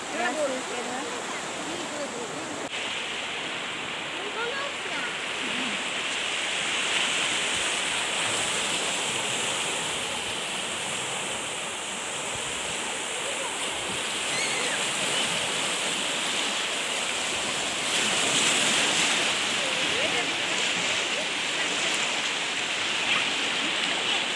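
Steady rushing floodwater of a swollen river roars loudly and continuously throughout, a broad churning flow, with faint voices occasionally beneath it.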